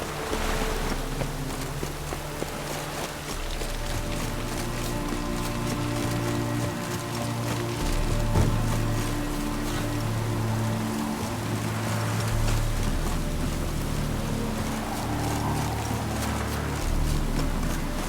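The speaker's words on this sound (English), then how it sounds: "Looks like rain." Rain in The Witcher 3 falls as a continuous dense hiss with a low rumbling bed and faint sustained musical tones throughout, steady and unbroken for the whole stretch, with no talking.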